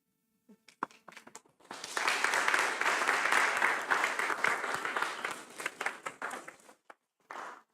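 Sustained applause from an audience after a Master of Architecture thesis defense presentation: a few scattered claps, then about five seconds of dense, steady clapping that tapers off, with one short final burst.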